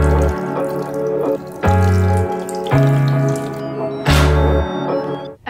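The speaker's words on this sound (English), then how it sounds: "I'm actually gonna pour a little bit of broth around it so that it doesn't burn." Broth poured into a pressure cooker around salsa chicken makes a loud, steady splashing liquid stream, broken by a few short pauses and fresh pours over several seconds, with no talk.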